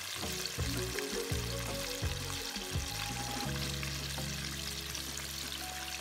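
Bajan-style fried chicken pieces cooking in a pot of hot oil, giving a steady, dense sizzle and crackle throughout, fairly close and moderately loud, with no voices.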